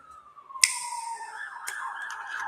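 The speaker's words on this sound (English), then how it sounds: "You hear them sirens?" An emergency siren wails faintly in the distance, its tone sliding downward, with a couple of sharp knocks close by over the quiet background.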